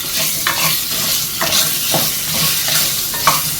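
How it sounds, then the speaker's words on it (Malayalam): Ginger garlic paste sizzles steadily in a pan while a spoon stirs it, with repeated scraping strokes over a continuous loud frying hiss, up close. "നമുക്കതിലേക്ക് കുറച്ച് ഇഞ്ചി വെളുത്തുള്ളി പേസ്റ്റ് ഇട്ട് കൊടുക്കാം"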